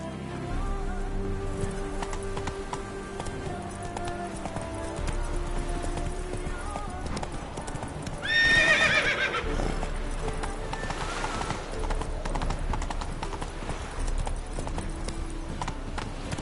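Roach's hooves clip-clop steadily in Witcher 3 with birds and faint ambience around, and one short, loud neigh rises partway through before the hoofbeats carry on.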